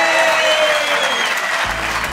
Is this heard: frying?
no